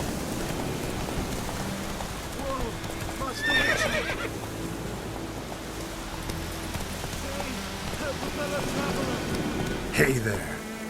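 The Witcher 3 horse Roach gives two whinnies over a steady clip-clop of hooves, with rain falling in the background and someone speaking briefly.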